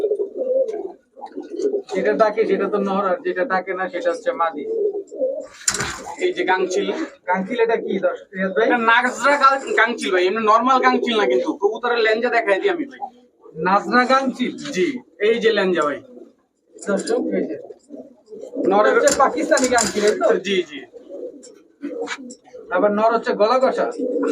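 Pakistani pigeons, including Kamagar and high-flyer Giribaz types, coo and call almost nonstop nearby in overlapping, throaty bursts, with people talking among the birds.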